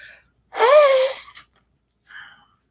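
A single loud sneeze from a man with a summer cold, sharp and close, followed by a brief faint breathy sound.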